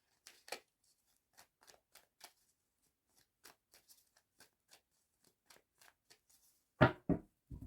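Tarot cards are shuffled and drawn in a quiet room, a series of soft, sparse flicks and taps spread across the moment before two louder, sharper card snaps close it out.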